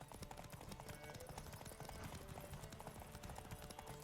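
A horse gallops in the video game Witcher 3, with fast, steady hoofbeats running through the whole stretch at a fairly loud level and no clear voice.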